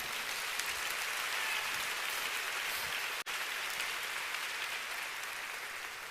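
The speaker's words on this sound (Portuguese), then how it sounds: "Se é para Jesus, você pode aplaudir." A church congregation claps in a steady, dense wash of applause that holds even throughout, with no voices heard over it.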